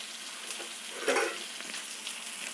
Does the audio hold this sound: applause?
no